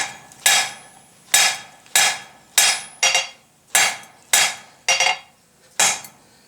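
Hammer blows ring sharply on an anvil while forging metal, about ten loud, evenly spaced metallic strikes, each one decaying quickly.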